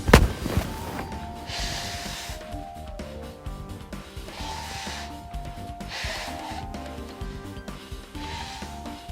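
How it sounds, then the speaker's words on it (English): A person blows their nose in several separate, breathy honking bursts, spaced a couple of seconds apart, over a steady bed of background music. "I need to blow my nose a bit."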